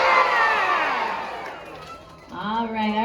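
Crowd of spectators cheering and clapping at the Weeki Wachee mermaid show, a broad wash of voices and applause that swells, fades, then rises again as an announcer-like voice speaks over it.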